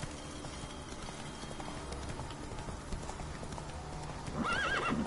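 A horse in The Witcher 3 game trots with steady clip-clop hooves over ambient game sound, then gives a clear whinny near the end.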